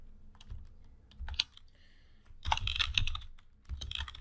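Keys clatter on a computer keyboard in short irregular bursts while a headline is typed, with close, crisp clicks and brief pauses between the runs.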